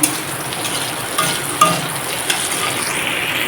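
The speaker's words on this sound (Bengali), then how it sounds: "মাথাটা একটু ভেজে নিলাম" A hilsa fish head fries in a pan, giving a steady, moderately loud hiss broken by a few faint metallic clinks, with no voices.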